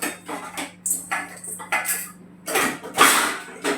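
Metal pots and pans clank and scrape repeatedly at close range, with a low steady hum underneath.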